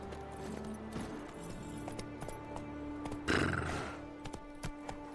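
Roach, Geralt's horse in The Witcher 3, gives a loud whinnying neigh over a steady low game ambience, with faint hoof clip-clops and scattered clicks before and after it.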